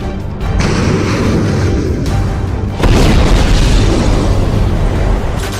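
Booming explosions from bombing and missile attacks rumble heavily and continuously, with a deep sustained roar and a fresh loud blast near the three-second mark, dense and close with no voices.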